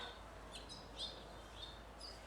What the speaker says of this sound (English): So many birds out today.